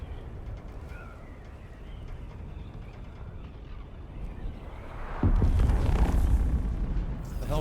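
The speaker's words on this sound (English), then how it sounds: "I think that was a plane crash." A plane crash explosion in the video game Dune: Awakening, heard as a low rumbling backdrop that erupts into a loud, deep boom partway through and then rolls on with heavy, fading roar.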